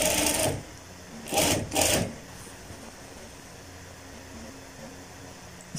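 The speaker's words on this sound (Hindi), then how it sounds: "बिल्कुल आपने पट्टी की जड़ से आपने सिलाई अटैच करनी है, स्टार्ट करनी है।" A sewing machine stitches a strip on a kid's Afghani kurta in short bursts, two or three quick runs of close mechanical whirring, followed by a quiet stretch.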